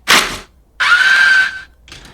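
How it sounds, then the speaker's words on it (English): A paper towel is torn with a short, harsh rip, then pulled from a dispenser in a sustained, squealing, scream-like screech lasting under a second, followed by a faint rustle. "The first thing you're gonna hear is me ripping the paper towel, and then the second sound is the paper towel coming out of the dispenser"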